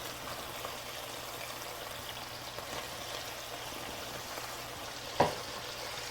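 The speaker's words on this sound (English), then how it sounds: "Stir it around because it's kind of clumped up." Carbonara pasta with prosciutto being stirred and tossed in a pan, a soft steady frying hiss with light scraping and one sharp knock near the end, fairly quiet.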